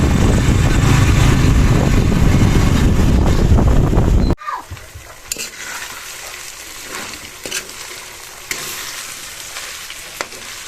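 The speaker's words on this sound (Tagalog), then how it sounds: "nagigisa po ng giniling" Ground meat sautéing in a pan for spaghetti sauce, loud continuous sizzling that cuts off suddenly, followed by quieter scraping and stirring sounds.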